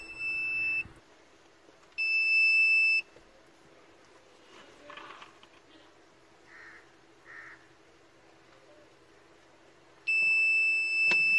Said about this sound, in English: if the driver looks down or looks up for more than 2 seconds, a buzzer is activated